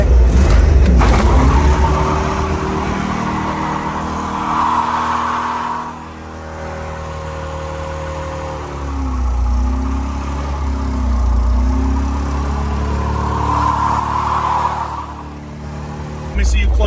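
A custom V8 Ford Ranger with a 5.0 engine and cut mufflers, idling loud and close, then revving in rising and falling surges as people talk over it.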